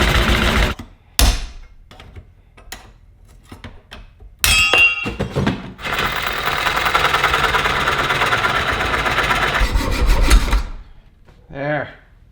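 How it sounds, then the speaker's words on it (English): A reciprocating saw cuts welded clamps off a Ferrari 458 exhaust tube, a loud steady buzzing rasp of about six seconds after a few sharp knocks and taps, ending abruptly. "I'm gonna have to saw that off so I can recover these clamps. Should be pretty simple, just use a sawzall."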